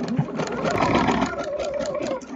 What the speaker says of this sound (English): I'm going to continue sewing right to the corner, but just beyond the corner